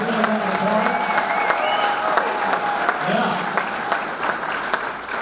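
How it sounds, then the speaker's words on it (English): Audience applause and cheering fill a sports hall of fame ceremony hall, a steady dense roar of clapping mixed with crowd voices and a few whoops, close and sustained throughout. "Please give them a round of applause."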